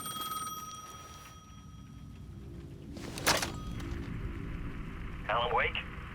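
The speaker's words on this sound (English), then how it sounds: "The payphone was ringing again." A payphone rings in the Alan Wake 2 video game, its faint electronic trill heard early and again near the end, under a low ambient drone with a sharp clatter in the middle.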